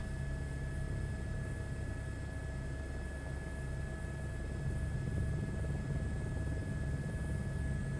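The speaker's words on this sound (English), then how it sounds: "I love the sound of helicopters." A helicopter flies in a flight simulator career mode, giving a steady, continuous low rotor rumble with a thin engine whine held at an even level, with no talking.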